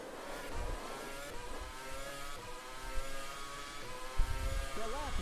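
An F1 2013 race car in the sim game rFactor 2 revs hard toward full revs on a straight, a steady buzzing engine drone with pitch rising near the end, with a voice talking over it.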